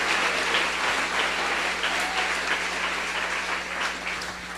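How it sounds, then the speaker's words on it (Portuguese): A church congregation at an evangelical service bursts into steady, dense applause that fills the hall at an even level throughout, with a faint low hum underneath and no talking. "Aplauda ao Rei dos Reis e Senhor dos Senhores."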